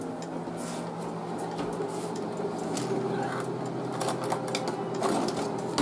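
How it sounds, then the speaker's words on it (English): A fork beats egg yolks in a bowl for beef Wellington, making a steady close-up patter of rapid clicks and whisking splashes that continues throughout. "I'm going to beat the egg yolks together"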